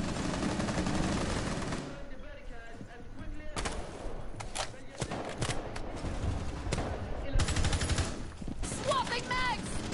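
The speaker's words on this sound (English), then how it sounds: "Zof and Bandit were just trading bullets right there." Rapid gunfire exchange in a Rainbow Six Siege match, with Zofia and Bandit trading bursts of automatic fire amid dense clattering shots that run nearly continuously, while a caster talks over the action.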